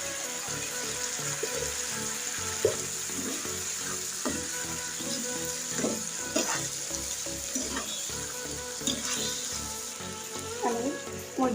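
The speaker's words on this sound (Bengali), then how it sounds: "আমি মুরগির পাটা 5 থেকে 10 মিনিট ধরে কষিয়ে নিয়ে বারবার লাড়া দিতে থাকবো।" Chicken feet frying in a pan give off a steady sizzle with intermittent stirring scrapes and clatter, close and moderately loud.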